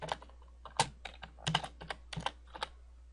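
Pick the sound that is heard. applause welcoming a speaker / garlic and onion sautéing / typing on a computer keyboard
typing on a computer keyboard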